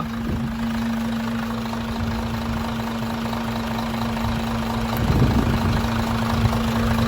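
A heavy Isuzu Forward truck engine idles steadily with a low, constant rumble and hum, roughening briefly near the end; no voices.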